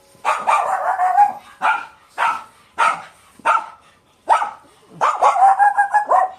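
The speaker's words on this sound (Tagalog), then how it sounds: "May aso pa." A dog barks repeatedly nearby, a run of sharp, loud barks with short gaps and a few yelping, drawn-out ones.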